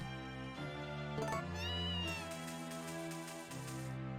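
A cat in the farming game Harvest Moon: A Wonderful Life lets out a long, rising, tonal meow over steady game music, a loud single call lasting a couple of seconds.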